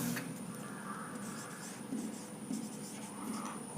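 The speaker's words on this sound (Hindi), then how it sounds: "एक क्वेश्चन लिखते हैं, एक क्वेश्चन लिखते हैं," Chalk or marker scratching steadily across a board while a question is written out during a chemistry lecture on solutions, a continuous close scraping with brief strokes and no speech.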